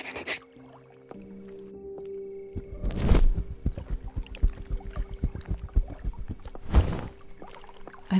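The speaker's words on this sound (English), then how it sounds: "I love listening to water." Water in the video game Cabernet: soft lapping and dripping with small clicks, swelling into two brief louder splashing surges, over faint sustained tones.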